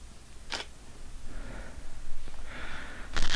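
A camera shutter clicks during a one-light portrait studio shoot, with two short sharp snaps, one early and one at the end, over quiet room noise and breathing.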